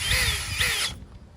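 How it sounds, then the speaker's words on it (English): A power drill whines loudly at high speed for just under a second, its pitch wavering, then spins down and stops. "That is one wicked drill."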